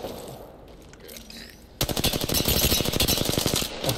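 Apex Legends rifle fire from an R-301 or Volt, starting after a quiet moment as a loud, fast rhythmic burst of automatic shots that runs steadily to the end.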